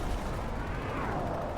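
Rapid automatic gunfire from a magazine dump in a team video game match, a dense continuous burst of shots with a steady, sustained roar of game battle noise.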